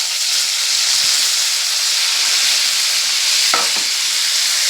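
Kasuri methi, grated ginger and tomato frying in hot oil, a loud continuous hiss and sizzle with a brief stirring scrape near the end, no voices.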